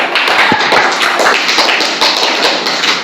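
Schoolchildren in a classroom clapping loudly together, a dense, continuous burst of many close hand claps filling the whole moment.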